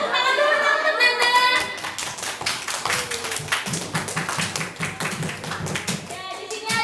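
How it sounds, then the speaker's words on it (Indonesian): Schoolchildren at an elementary school legal-awareness session clap their hands together, a steady close burst of many small claps running throughout, with children's voices chattering over it. "Tepuk tangan dulu untuk Nanda."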